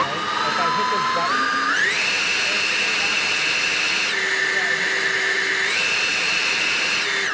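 An ECHO DPB-5800T battery backpack leaf blower runs close and steady, a loud whooshing air roar with a motor whine that steps up in pitch, holds, dips, then rises again as the speed changes.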